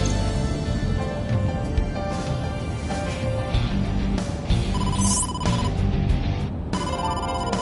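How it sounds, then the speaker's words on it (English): A telephone rings repeatedly in The Quarry video game, signalling an incoming call from the boss, with a steady electronic ring pattern over a background music bed. "incoming call from the boss"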